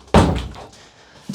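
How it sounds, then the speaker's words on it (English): A home kitchen door shuts with one loud, solid thump close by, followed by a short fading rattle and a small knock at the end. No one speaks. "And I'm just going to close the door because,"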